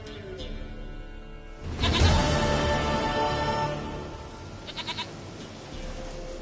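A goat in Witcher 3 gives a loud bleat after a quiet start, followed by a few shorter wavering bleats near the end.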